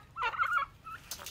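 A turkey gobbles beside a fence shared with chickens, a short close warbling call followed by a quieter second burst.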